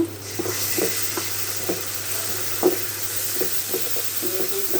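Frying in a pan for a tomato and onion chorchori, with a constant close sizzle broken by irregular stirring knocks and scrapes of a spatula.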